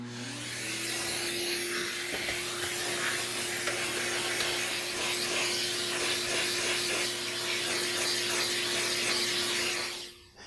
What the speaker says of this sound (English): I'm going to take a second and use my vacuum to remove the dust from the bracket and the fan.